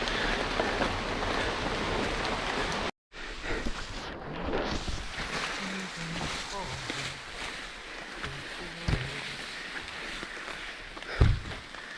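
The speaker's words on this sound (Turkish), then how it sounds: "Burada böyle sağanak gibi değil, böyle büyük büyük damlalar düşüyor böyle." Steady rain patters onto foliage in the Amazon rainforest, with scattered large, heavy drops landing close by rather than a downpour, brief breaks, and wind noise buffeting the microphone.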